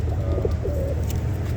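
Pigeons in a loft giving soft low coos over a steady background hum, brief and close.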